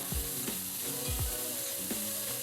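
Carrots for a mixed vegetable thoran are stirred in a frying pan, giving a soft, low sizzle broken by several scraping strokes of a spoon, quiet and close, with no talking.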